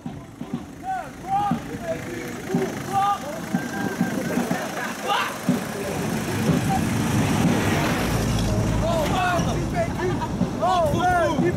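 Street traffic rumbles steadily during an outdoor protest march in Agen, with passing engines and a swelling roar midway, while people chat and call out nearby over it.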